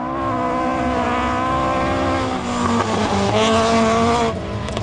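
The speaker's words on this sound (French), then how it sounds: "J'ai fait un tête à queue." Historic rally car on the Maroc Historic Rally spinning out: a loud, close engine whine holding steady then shifting pitch, with tire scrabble and skidding as it turns around.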